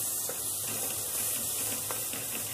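Two garlic cloves sauté gently in oil with softened onion for spinach pasta, making a close, continuous hiss with faint crackles throughout.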